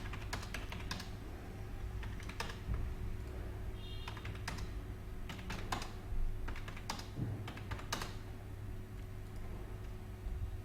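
Faint typing on a computer keyboard while entering values into an Excel sheet, scattered keystrokes in short irregular bursts over a low steady hum, with no talking.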